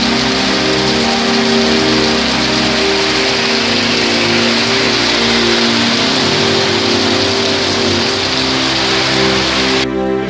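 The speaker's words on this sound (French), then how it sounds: "Mais vous voyez derrière moi comme il pleut. Ah il pleut de ouf" Heavy rain pours steadily on a street in Taiwan, a loud continuous hiss mixed with the low rumble of passing traffic, with no voices over it.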